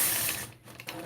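A sewing machine stitches the last point-to-point curves of a quilt block, a fast mechanical whir with light rattling that fades briefly midway and picks back up, close by and with no talking.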